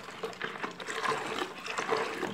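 Water poured into a container to dissolve a lavender-scented glycerin liquid soap base, a steady close splashing and trickling flow lasting throughout.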